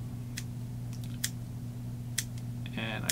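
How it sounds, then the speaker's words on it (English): A few crisp snips of small curved scissors cutting deer hair on a salmon fly at irregular intervals, quiet and close, over a low steady hum. "I'm using the TMCO curved deer hair scissors"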